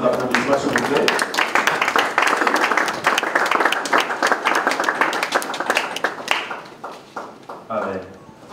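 A church audience claps and applauds in welcome for Pastor Christian, a dense, steady wave of hand claps that thins out toward the end, with some voices mixed in.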